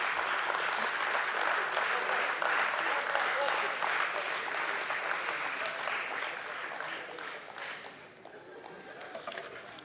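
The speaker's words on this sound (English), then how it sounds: "let's once again give them a big round of applause for this very, very special moment" Loud, sustained audience applause fills a hall during a stock exchange listing ceremony for Metropolis Healthcare, dense clapping that tapers slightly toward the end.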